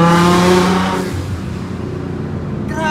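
A car at a car meet revs hard up close, loud and strained with a rising whine, then drops into a lower rumbling roar that holds steady for the rest of the moment.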